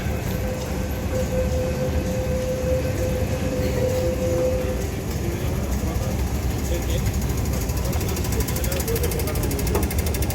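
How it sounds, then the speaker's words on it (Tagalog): An MTR South Island Line train passes near Wong Chuk Hang station on a hillside hike, giving a steady rumbling roar with a sustained tone partway through and faint voices underneath. "South Island train is going down"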